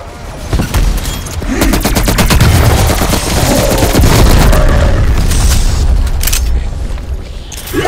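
A Semtex grenade blast and rapid gunfire in Call of Duty: Black Ops Cold War, loud and close, with heavy booms and dense automatic fire rolling on for several seconds.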